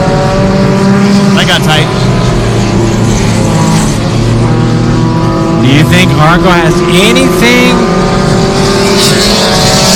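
Stock cars race loudly in a NASCAR Division III Enduro, with several engines roaring and shifting pitch as they pass close by. Commentators talk over the noise.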